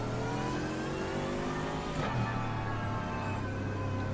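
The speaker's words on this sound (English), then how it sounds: "They've changed the sound of this car and it sounds" Mercedes race car in the iRacing sim at the Nordschleife, its engine holding a loud steady drone, then blipping and climbing in pitch as it revs through gears, harmonics sweeping upward with no voices.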